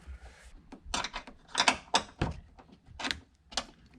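A socket wrench turns a bolt on a Honda Fit's upper B-pillar, giving a series of quiet, close clicking ratchet bursts at uneven intervals with short gaps between them.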